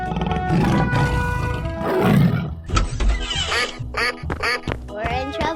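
A tiger roars in a 3D animal slide video game, with loud, harsh growling bursts first and then a run of shorter snarling calls that trail off toward the end.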